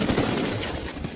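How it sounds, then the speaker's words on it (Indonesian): A rapid burst of gunfire, loud and dense, with shots running together into a continuous rattle. "Siapa brengsek yang melepaskan tembakan?"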